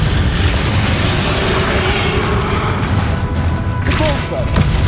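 Heavy explosive blasts from the Bombarda spell in Hogwarts Legacy during a battle against Ranrock, loud, continuous booming and rumbling with overlapping impacts throughout.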